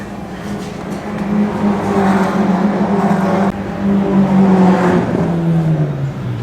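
A classic 1960s Lotus Formula 1 race car runs on track at a testing day, its engine loud and close with a steady high drone that holds, briefly cuts, then returns and drops in pitch as it passes.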